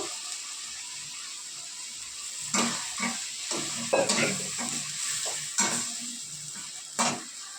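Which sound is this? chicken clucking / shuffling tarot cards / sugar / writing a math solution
sugar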